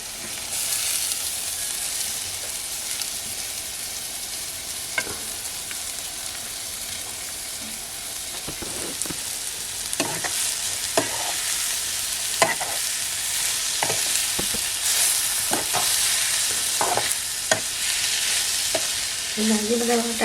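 Wild banana vegetable fries with browned onion in a pan, a loud continuous sizzle broken by occasional stirring clinks and scrapes, up close with no talking.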